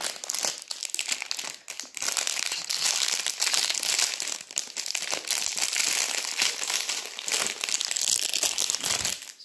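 Crinkly plastic wrapping of a package of Chinese snacks being torn open and handled, a continuous close, loud crackling and rustling with brief pauses, no speech.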